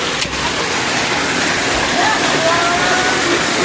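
Hail falls outside in Rajkot as a dense, loud rushing roar, like heavy downpour, heard near and continuous through an open window, with a voice speaking over it.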